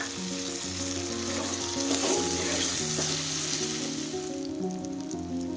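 Okra palya with turmeric and chopped tomato fries in a pan, giving a steady loud sizzle with stirring scrapes throughout and a low hum beneath.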